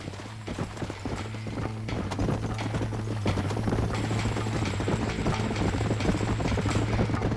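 Steady clip-clop of horse hooves trotting close by in Red Dead Redemption, a constant rhythmic clatter over a low rumbling hum, with no voices.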